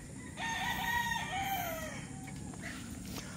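A Boston Black rooster crows once, loud and fairly close, the call starting sharply and trailing off, with faint clucks and quiet farmyard background afterward.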